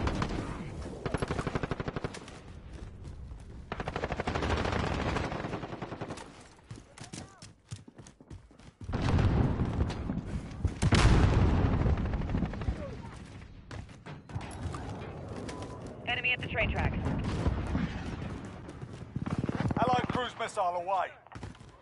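Repeated bursts of automatic gunfire in a military shooter game come in loud waves across a long firefight, with radio-style voices calling out under the shooting.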